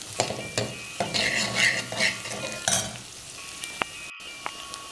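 Onion, ginger, garlic, beans and green chilies sauteing in a pan for vegetable pumpkin soup: steady close sizzle with bursts of stirring scrapes, fading toward the end with a few sharp clinks.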